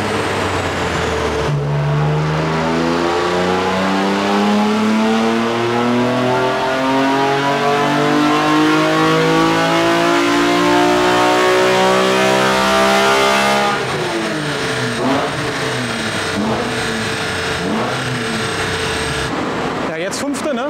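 A turbocharged BMW engine revs in fifth gear during a power measurement run. Its loud, steadily climbing roar sweeps upward for over ten seconds, then drops off and settles into lower, uneven revving close by.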